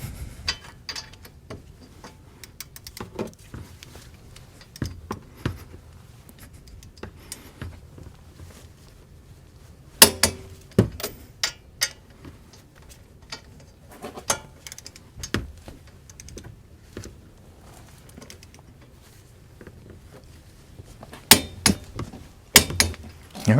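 A torque wrench ratchets on the front brake caliper bolts of a Chevrolet Sonic during a disc brake overhaul, giving repeated close metallic clicks in uneven bursts with short pauses and louder clusters near the end.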